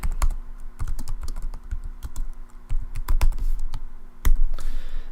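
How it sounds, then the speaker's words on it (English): Keys on a computer keyboard clatter in uneven bursts of close, crisp taps as someone types a message into a chat pod, alone without talk. "If I click down here, I can type something."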